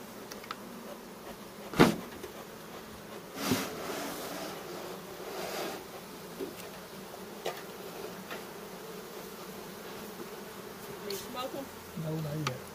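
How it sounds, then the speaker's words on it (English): A faint, steady insect buzz of many honeybees hums in the background, inside a bee vacuum, with a few sharp knocks and clatters breaking through. "See all the bees you vacuumed up"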